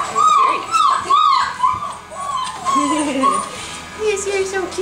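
Puppy from a litter whimpering and yipping in repeated short high cries, close by, with someone talking warmly over and between them.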